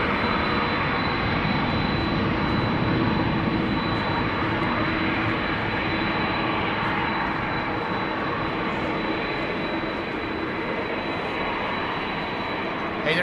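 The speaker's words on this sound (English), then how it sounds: "This is Turkish A330. Undoubtedly outbound to Istanbul." A Turkish Airlines A330 jet outbound from a rainy Amsterdam Schiphol gives a steady, broad engine roar that stays loud and even throughout, blended with wet ambient noise.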